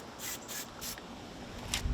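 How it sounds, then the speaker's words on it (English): Short hissing bursts from an aerosol can of anti-corrosion spray on an outboard motor, several quick sprays in a row followed by a final longer spritz, close by with no talking. "Just give it a little spray."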